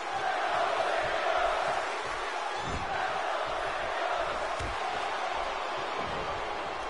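Wrestling arena crowd in Philadelphia roaring steadily throughout, a dense wash of cheering and shouting from a large audience with a few louder bursts, no clear talk on top.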